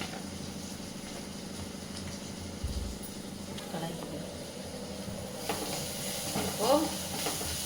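Onions sauté in a pan with salt and turmeric, producing a steady soft hiss and sizzle, with occasional utensil knocks and stirring scrapes toward the end.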